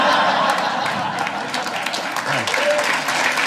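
An audience at a stand-up comedy show breaks into sustained, dense applause. Scattered shouts and a voice come through the clapping.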